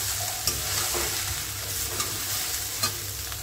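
Fried rice with pre-fried vegetables stirred in a hot pan, a continuous close sizzle with scraping spatula strokes and a few sharper clicks against the pan, no talking.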